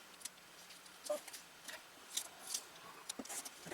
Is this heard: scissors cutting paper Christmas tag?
yes